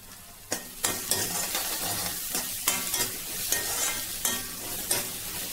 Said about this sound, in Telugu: ఇప్పుడు మనం సన్నగా పొడుగ్గా కట్ చేసుకున్న ఒక పెద్ద సైజు ఆనియన్ ఇందులో వేద్దామండి